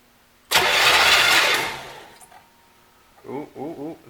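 A 1975 C3 Corvette engine with its spark plugs out is cranked in a loud, airy burst lasting about a second and a half, sounding hollow and compressionless; a voice then speaks.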